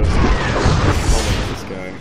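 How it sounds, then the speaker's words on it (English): A Torpedo Frigate in StarCraft 2 lets loose a volley of torpedoes, heard as a dense run of booming, crashing impacts and whooshes that fills the two seconds before easing off slightly at the end. "Let me give a demonstration of its attack right here on the Torpedo Frigate. So it fires these torpedoes."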